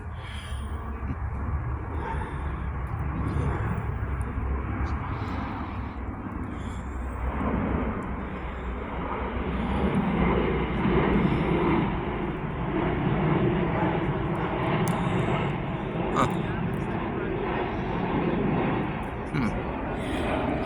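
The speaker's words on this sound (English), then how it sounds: "That's the biggest drone I ever seen. Sounds like a big drone." A large drone flies overhead near an airport, a steady broad engine drone filling the air for the whole stretch, swelling slightly midway, with outdoor rumble and occasional voices.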